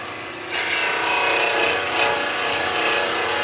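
A woodturning chisel with its bevel rubbing cuts shavings from spinning wood on a lathe, a continuous close rasping hiss over the lathe's steady hum, without talking.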